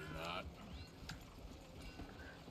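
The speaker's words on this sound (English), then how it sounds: "Oh, that horse!" Clip-clop of horse hooves in a video game, faint and distant, a few soft irregular thuds under background game ambience.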